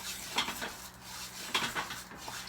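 Rice toasting in oil in a pan is stirred with a utensil, giving quiet scraping clinks against the metal at irregular intervals over a faint background hiss.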